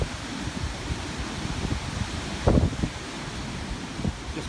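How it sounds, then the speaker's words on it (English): Big wind gusts from Typhoon Megi sweep across an open spot in Taiwan, a continuous rushing roar with rustling and a few louder buffeting bursts near the microphone. "I can actually hear more big gusts coming along now."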